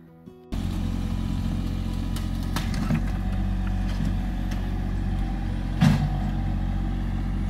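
A tractor engine runs on an off-grid property, starting abruptly and then holding a steady, loud low-pitched drone with a few clattering knocks and a brief surge near the end.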